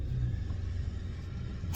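A car engine rumbles low and steady inside an underground car park in Diyarbakır, Turkey, ending in a brief louder burst.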